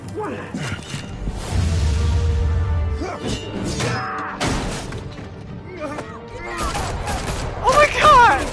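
Gunfire in the Batman: The Telltale Series game, bursts of shots and crashing impacts mixed with shouting voices and a chaotic, loud scene throughout.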